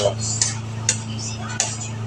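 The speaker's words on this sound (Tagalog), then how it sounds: "Siyempre, halo-haloin natin yung giniling." Ground meat stirred in a pan at a canteen, with three sharp scrapes and clinks of a utensil against the metal over a steady low hum, and a voice speaking in between.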